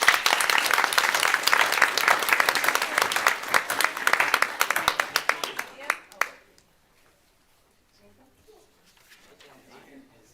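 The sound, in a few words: applause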